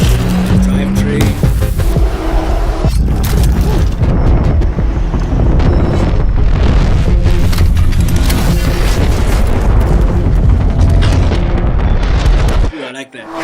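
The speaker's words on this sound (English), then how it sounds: "Engine firing" A 656 hp 2024 Aston Martin Vantage engine fires and roars loudly and continuously, with booming exhaust bursts and a dense, steady drone that cuts off sharply at the end.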